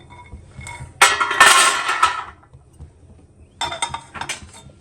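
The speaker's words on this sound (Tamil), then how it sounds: "நம்ம இப்போ எடுத்து ஒரு பிளேட்டில் கொட்டிக்கலாம்" Roasted almonds poured onto a plate in a couple of rattling bursts, a dense clatter of hard nuts striking the dish, close and fairly loud, with a short pause between pours.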